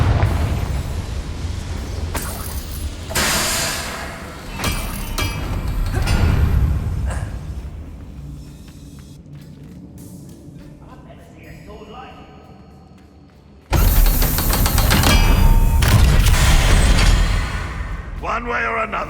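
Confringo blasting spell in Hogwarts Legacy, with heavy booming explosions over battle noise, a lull, then a sudden loud blast and sustained rumble as voices talk throughout.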